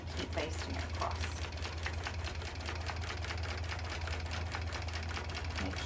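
A long-arm quilting machine basts a loaded quilt with batting, its needle hammering in a rapid, even stitching rhythm over a low motor drone, close and steady for several seconds.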